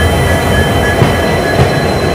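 A train rumbles past loudly and close at Subramanya Road railway station in India, with a steady roar, rattling wheels and a faint high squeal.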